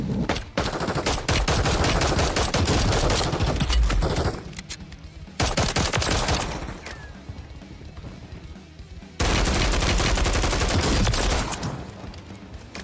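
Bursts of automatic gunfire from Call of Duty Resurgence rattle in long, dense sustained volleys, loud and close, broken by a couple of short pauses before firing resumes.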